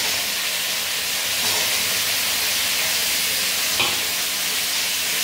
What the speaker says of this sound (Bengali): পেঁয়াজটাও কিছুক্ষণ এভাবে নেড়ে চেড়ে ভেজে নেব।